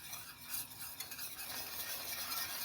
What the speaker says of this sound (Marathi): व्हिस्क वापरा, व्हिस्कनं काय होतं गुठळी होत नाही त्याच्यामध्ये.